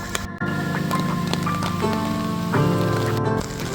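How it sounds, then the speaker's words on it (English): Heavy typhoon rain pours onto a Tokyo street, a dense, continuous patter and hiss of drops striking surfaces close by, with a faint tonal hum underneath and no talk. "I'm really enjoying actually walking through Tokyo in the rain."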